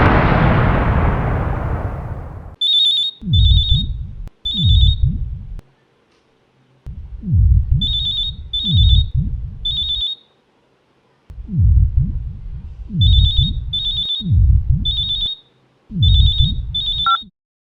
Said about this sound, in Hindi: उस दिन जब फ़ोन की घंटी बजी मेरी तो हार्ट बीट बढ़ गई